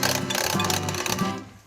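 An electric mixer briefly whirls chocolate cheesecake filling with egg and vanilla added, giving a close, buzzing motor whir of under two seconds that trails off at the end, with no talking.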